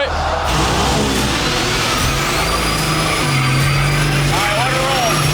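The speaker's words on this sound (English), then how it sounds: "you probably better go ahead and do this burnout" A car engine revs loudly and close for a burnout, a sustained roar whose pitch climbs and wavers, with voices talking over it.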